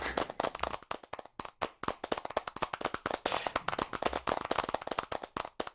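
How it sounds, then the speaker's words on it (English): An audience claps after a VR concept presentation: dense, fast, crisp handclaps from a modest crowd, fairly close, continuing steadily for several seconds with no talking. "You can applaud."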